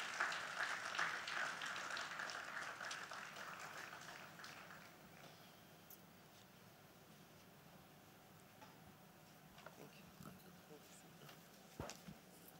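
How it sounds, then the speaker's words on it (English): Audience applause at a tax and business compliance seminar, a broad wash of clapping from the room that fades out after about five seconds, leaving quiet room tone with a few faint knocks. "Please, let's clap."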